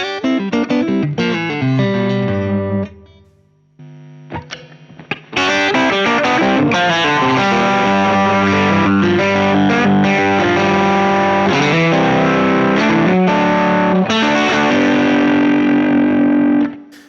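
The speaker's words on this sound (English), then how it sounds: "we're still getting a lot of fuzz" Fuzzy, distorted electric guitar plays chords and riffs, with a brief pause before a louder, sustained, buzzing passage.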